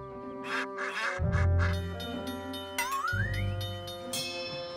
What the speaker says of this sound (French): Bougez-vous les plumes, les canards.